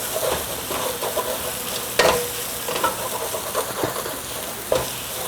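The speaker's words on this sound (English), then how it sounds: "So now you need to constantly stir it, because the ginger garlic paste will stick to the bottom." Ginger garlic paste fries over low-medium heat in a pan for chicken biryani while being stirred constantly; a close, continuous sizzle carries repeated scraping strokes and an occasional sharper knock.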